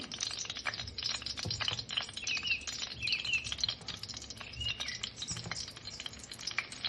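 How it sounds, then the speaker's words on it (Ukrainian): Cherry-filled pies fry in hot oil in a skillet, giving a steady, close crackling sizzle with dense spitting pops throughout and no voices. "Нагріваємо гарно олію на сковорідці, викладаємо пиріжки."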